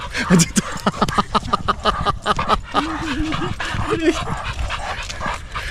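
Two dogs on leashes during a walk in Edmonton, Alberta, Canada, giving excited yips, whimpers and barks near the listener, with footsteps and people talking over them.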